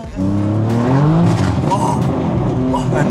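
A BMW M4 sports car's engine revs hard and loud close by, its pitch climbing and holding in a roaring sweep for a few seconds, with excited voices faintly mixed in.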